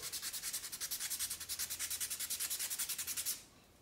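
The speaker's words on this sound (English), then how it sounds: "I have a dirty stump, so I'm gonna clean it by rubbing back and forth." A graphite blending stump is rubbed rapidly back and forth across a surface to clean it, producing a steady rhythmic scratchy swishing of roughly twenty quick strokes that stops abruptly near the end.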